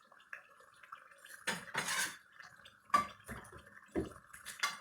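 Kitchen utensils, a spatula and plates handled while making a pizza lasagna: a run of sharp clinks and clatters of metal against crockery, fairly close, arriving in irregular bursts with quiet gaps between.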